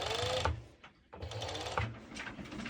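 A sewing machine or serger stitches the waistband of Daysa bottoms in short bursts of rapid mechanical chatter, with a brief pause in the middle, close and fairly loud.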